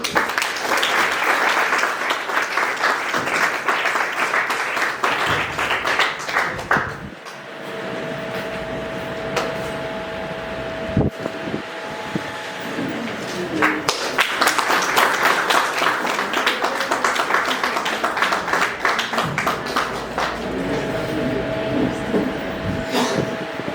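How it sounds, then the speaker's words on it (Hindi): Sustained audience applause at a prize distribution and felicitation ceremony at an educational institute, loud dense clapping that dips briefly in the middle, then swells again, with some voices mixed in. "जोरदार तालियों के साथ प्लीज वेलकम प्रथम सर ऑन द स्टेज"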